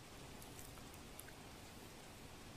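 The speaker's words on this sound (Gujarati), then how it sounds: "મહેસાણાના કડીમાં મોડી સાંજે ધોધમાર વરસાદ પડ્યો" Heavy evening rain pours down in Kadi, Mahesana, a continuous broadband hiss of drops with no breaks, steady but fairly faint and distant.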